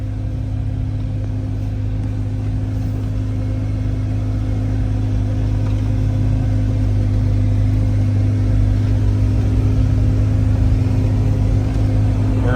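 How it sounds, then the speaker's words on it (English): A 2005 Jeep Wrangler TJ Rubicon engine pulls steadily as it accelerates through the gears, a loud, continuous mid-range drone with deep rumble that holds evenly throughout, heard from inside the vehicle. "We're in second gear right now, into third gear."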